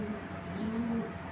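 An original Kitel bloodline pigeon pair coos softly at close range, a brief low murmuring with a steady background hum.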